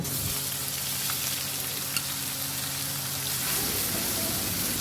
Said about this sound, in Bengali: বাটা মশলা দিয়ে খুব ভালোভাবে কষিয়ে নেব